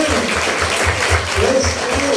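Church congregation claps in a brisk, even rhythm, the beats thudding in regular pulses while a voice rises briefly over the crowd.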